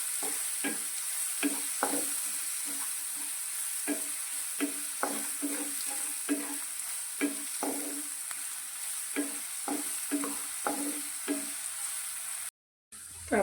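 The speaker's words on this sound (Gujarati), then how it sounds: "તો ડુંગળીનો કલર આછો ગુલાબી થાય ત્યાં સુધી તેને સાતળીશું." Onions sautéing in a pan over a low flame: a soft, steady sizzle with a spatula scraping and stirring at a regular pace, about twice a second, quiet and close with no talking.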